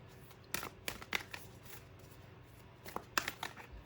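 Tarot cards shuffled by hand in a quiet room, with several brisk riffling bursts spread over a few seconds and pauses between them.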